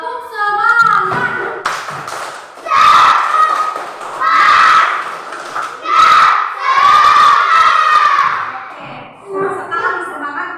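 A class of children performs a spirited rhythmic clap chant, shouting together loudly and close in energetic bursts with claps and thumps mixed in, and a teacher's voice heard briefly.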